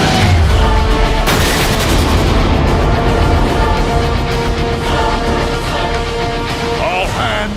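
Weapon fire and explosions from a Transformers Cybertron battle scene, a loud, dense barrage of booms and rapid gunfire running without a break, with voices mixed into the din.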